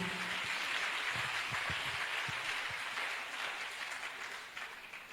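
Audience applause at a church testimony gathering, a dense steady wash of clapping that slowly fades toward the end, with a few low thumps underneath.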